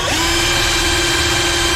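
Power drill boring holes through gypsum ceiling board during a halogen LED light installation, a steady close whine throughout with no talk.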